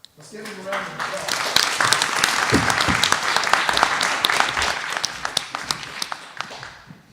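Applause at a school district board meeting: a crowd claps steadily for several seconds, dense and fairly loud, fading slightly toward the end.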